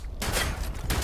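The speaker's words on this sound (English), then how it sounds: "I'm just shooting a mole miner right now" Gunfire in Fallout 76 aimed at a mole miner: a dense burst of loud shots with two or three sharp bursts crowding a one-second stretch, close and punchy.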